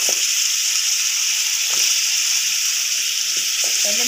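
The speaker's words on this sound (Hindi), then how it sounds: "ये मैं आलू शामिल करने लगी हूँ ताकि इसे भून सकूँ।" Potatoes frying in hot oil with whole spices for aloo palak, a steady, close, high sizzling hiss throughout, with a few soft stirring knocks and scrapes underneath.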